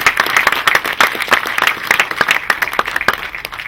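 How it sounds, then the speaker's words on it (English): Audience applause in a conference plenary session hall, a steady dense clapping that stays loud and even throughout, with no talk over it. "let's give them another round of applause"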